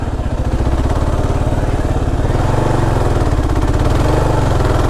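A Kawasaki KLR 650 motorcycle crawls off-road through sand, its single engine chugging in a steady, rapid throb at close range with no talk.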